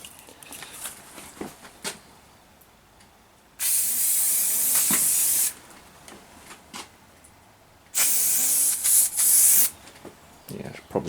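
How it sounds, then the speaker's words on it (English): Silicone spray hisses from an aerosol can onto a dirt bike tyre in two bursts of about two seconds each, loud and close, separated by quieter clicks and handling noises. "I have silicone spray."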